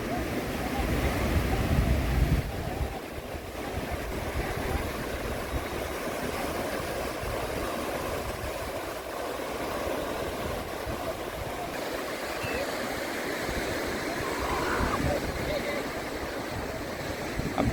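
Ocean surf rolls onto Gokarna main beach in India, a steady, fairly faint wash of breaking waves mixed with wind buffeting the microphone, louder at the start and continuing without speech.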